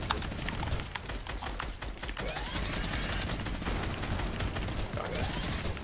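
Rapid, dense gunfire from a Fortnite trio cash cup match rattles almost without pause for several seconds, loud and close, with mechanical clicks mixed into the bursts.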